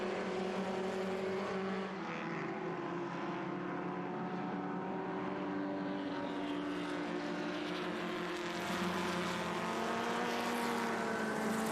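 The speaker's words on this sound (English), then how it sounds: "And another 1961 Abarth there coming through shot." A 1961 Abarth race car, an orange-fronted Porsche Carrera Abarth, passes during qualifying at the Velocity Invitational, its engine a steady loud drone with shifting pitch mixed into the continuous roar of other cars on track.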